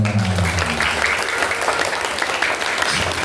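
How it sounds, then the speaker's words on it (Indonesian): Schoolchildren applaud at an Isra' Mi'raj commemoration at a primary school, a loud, dense burst of many small hands clapping continuously and close by. A voice can be heard briefly at the start. "tepuk tangan untuk kita semuanya"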